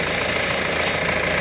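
A Volvo V40 diesel engine idles after an oil change with a close, steady, even clatter and a low rhythmic throb throughout, no talking.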